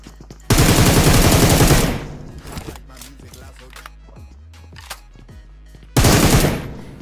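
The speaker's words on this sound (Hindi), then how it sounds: "यहाँ आने के बाद बहुत ही तगड़ी फायरिंग की साउंड आती है सी बिल्डिंग की तरफ से" Heavy automatic gunfire in BGMI, the mobile battle royale game, with a long, dense burst of rapid shots up close, a quieter stretch of scattered clicks and small sounds, then another loud burst near the end.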